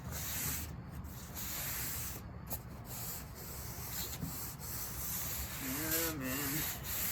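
Sandpaper rubs steadily across a wooden Fesley kit guitar body being refinished, a continuous close scratchy hiss with slight swells as the strokes change.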